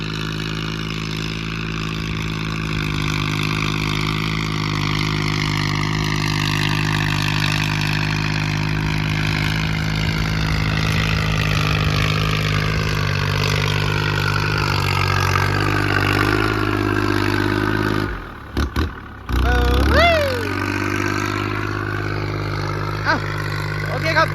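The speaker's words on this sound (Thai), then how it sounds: "การทำงานของรถไถ LC018 SP" A Kubota L4018SP tractor ploughs a wet, grassy, pitted rice field, its engine droning loud and steady with a low rumble and slowly shifting pitch, briefly cutting out near the end.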